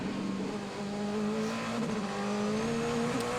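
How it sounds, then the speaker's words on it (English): A DTM race car at Zolder revs hard and spins its wheels pulling away from its pit box, with a loud, steady engine note climbing slightly in pitch, a brief tyre chirp, and no voices. "Loic revs it, spins the wheels out of the grid box"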